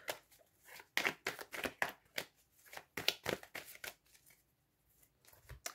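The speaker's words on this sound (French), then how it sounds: "on va remélanger un petit peu les cartes" Tarot cards being shuffled by hand in quick riffling bursts, close and fairly quiet, with short pauses between rounds of shuffling.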